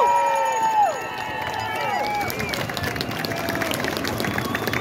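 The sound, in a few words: crowd applause and cheering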